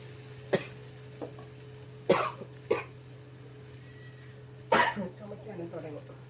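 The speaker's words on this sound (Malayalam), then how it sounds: "ചുമക്കാനും തുടങ്ങി." Several sharp coughs break out near a stove as chili is fried for a Maldivian tuna curry, scattered bursts over a steady low hum, with a person talking between them.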